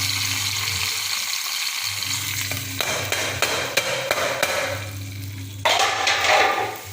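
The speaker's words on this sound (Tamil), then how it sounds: "கொஞ்சம் பச்சை மிளகா கொஞ்சம் கருவேப்பிலை போட்டாச்சு" Steady close sizzle of green chillies and curry leaves frying in hot oil for a tomato rice, with faint metallic taps from a ladle against the pan near the middle and a louder burst of crackle toward the end.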